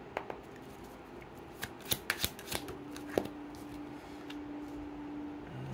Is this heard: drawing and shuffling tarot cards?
yes